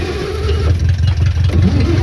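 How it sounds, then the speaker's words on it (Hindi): A car engine turns over and settles into a low, throbbing idle, loud and close, with a slight surge partway through. "Start the engine."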